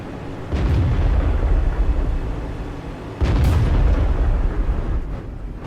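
A WZ-111 tank gun firing in World of Tanks, heard as two heavy, booming shots a few seconds apart, each followed by a rumbling roar that fades slowly.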